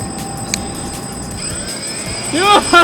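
A drone's motors throttle up and down with a whining, rising and falling buzz that builds toward the end, while people talk nearby.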